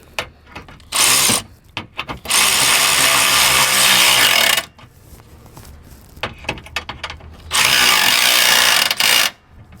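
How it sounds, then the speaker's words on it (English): A power tool drives self-tapping screws into the fender liner of a Toyota RAV4 Hybrid in several loud, harsh ratcheting bursts of one to two seconds each, with quieter handling noises between them. "We'll put the self-tapping screw back into the fender liner here as we go. Let's go ahead and give them a tightening."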